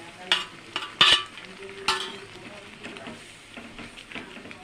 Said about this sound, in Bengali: এটা সুন্দর করে আগে একটু কষাতে হবে, যাতে এতে কোনো রকম মশলার গন্ধ না থাকে।